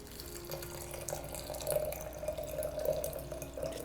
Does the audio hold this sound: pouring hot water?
yes